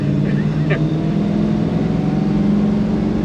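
A 1968 Dodge Charger with a manual clutch drives along, its engine giving a loud, steady low rumble throughout. A voice may be faintly present over the drone.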